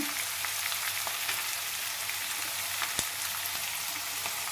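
Onions and tomatoes fry in a pan with a constant soft sizzle, quiet and close, with faint crackles scattered through and one sharper pop.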